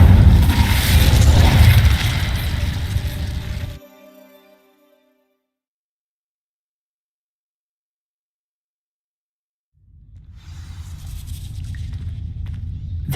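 An Incendio fire spell cast in Hogwarts Legacy bursts out loud and roaring, then cuts to several seconds of silence before a lower rumbling swell returns.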